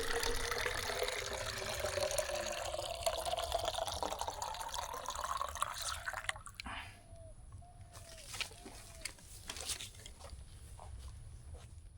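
Water pours steadily into a container for tea at a forest campsite for several seconds, its tone rising as it fills, then stops, leaving a few faint drips and clinks.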